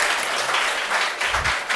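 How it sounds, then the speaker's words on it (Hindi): Applause at a student felicitation ceremony honouring pupils selected in JET and CUET exams, a steady dense patter of clapping hands filling the short moment without voices. "तालियां"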